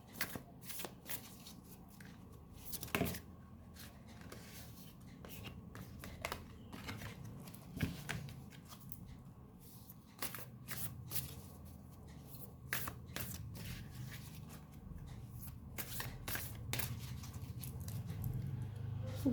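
Oracle cards are shuffled by hand at close range, a quiet run of rapid riffling and slapping bursts in uneven clusters with a low room murmur underneath and no clear speech.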